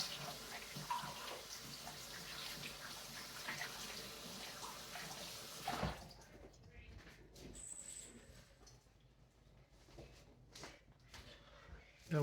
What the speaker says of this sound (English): you want to wash your hands from it